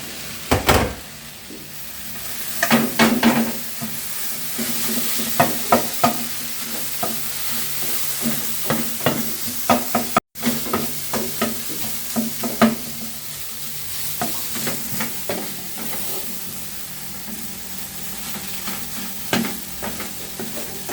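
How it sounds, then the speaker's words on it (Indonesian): Porang egg being stirred into meat in a hot frying pan, with steady sizzling under repeated scraping and clacking strokes of a utensil across the pan, close and continuous. "kita akan memasukkan telur porang tadi dan kita akan mencampurnya dengan daging"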